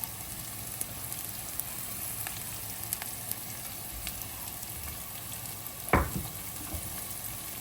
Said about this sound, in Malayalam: ഇനി അതിലേക്ക് ചതച്ച പച്ചമുളക് കൂടി ഇട്ട് കൊടുക്കാം